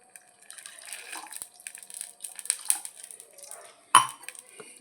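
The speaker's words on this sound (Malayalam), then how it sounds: "ഒരു അര ഗ്ലാസും കൂടെ വെള്ളം ഒഴിക്കാം" Half a glass of water is poured into a pot of rice for ghee rice, a close splashing trickle with light clinks of metal pot and utensils and one sharp knock near the end.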